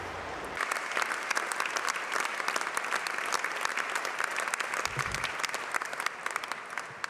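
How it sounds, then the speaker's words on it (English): A convention audience claps hard and steadily for the whole stretch. The applause is dense and loud, and a few faint voices come through under it. "Let's give them and all our sisters and brothers who have made a large sacrifice a big round of applause."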